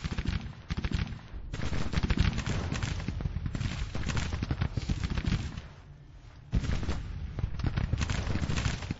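Massed musket volleys from Civil War infantry lines in a strategy game, a continuous crackling fusillade of many overlapping shots with brief lulls, steady and fairly loud with no talk.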